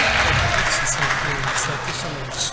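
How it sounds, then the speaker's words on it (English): Audience at an entrepreneurship symposium applauding, a dense steady wash of clapping from a hall full of people lasting throughout, fairly loud and close. "A better round of applause."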